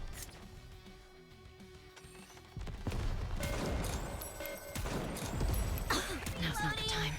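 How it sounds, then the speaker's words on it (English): Weapon reloading and bursts of gunfire in the Nikke: Goddess of Victory video game, quiet mechanical clicks at first, then dense, loud rapid fire with sharp metallic rattles over a steady battle din. "Preparing to reload."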